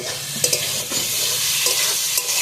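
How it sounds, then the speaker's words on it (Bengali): Fried potatoes stirred through a spice masala in a pan for a bhetki fish-bone chorchori, a steady close sizzle broken by repeated scraping stirs of the spoon, with no talking. "ভেজে রাখা আলুগুলো দিয়ে আমি ভালোভাবে আবার কষে নেবো আলুটা"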